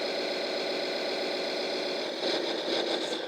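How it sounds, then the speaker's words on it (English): A Servonaut sound card in an RC Scania 8x8 recovery tow truck plays a steady simulated diesel idle as the PTO revs itself up, and the engine note swells slightly partway through. "You can hear the PTO kind of revving itself up. That's because it's a Servonaut sound card."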